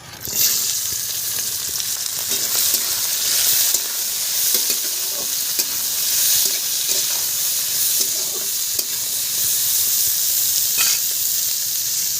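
Green beans go into hot white oil already frying with carrots, making a loud, even sizzle that runs on steadily, with light stirring scrapes now and then close to the pan.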